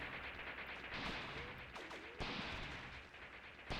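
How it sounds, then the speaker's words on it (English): Mortar fire and shell impacts in the WW2 video game Mius Front, a steady rumble of battle with a sharp blast near the middle and another loud crack later, no talking. "Oh, and there we go, first mortar impact."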